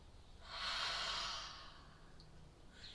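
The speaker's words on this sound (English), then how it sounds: "Nice full breath in through the nose. Exhale it out the mouth." One slow, deep breath drawn in through the nose and sighed out through the mouth during a lunchtime yoga stretch, close and soft with no speech.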